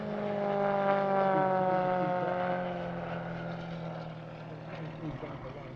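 Remote control model Extra aircraft performing at an airshow, a buzzing propeller engine whose pitch slides downward as it passes, loud at first then fading into the distance, with a narrator talking over it.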